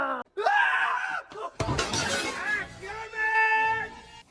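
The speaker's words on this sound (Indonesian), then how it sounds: "Quasimodo mulai berteriak kalau ada manusia di hotel." Quasimodo, the hotel chef in the animated film Hotel Transylvania, gives loud, exaggerated screams in bursts, mixed with a glassy shattering crash and frantic cartoon voices.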